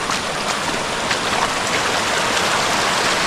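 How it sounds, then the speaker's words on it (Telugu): Forest stream water rushing steadily along a trek to Dudhsagar Waterfall, a dense, continuous broadband wash that stays loud and even throughout, with no voices. "ఎక్కడి నుంచి బాగా ఎక్కువగానే ఫ్లో అవుతున్నాయి వాటర్."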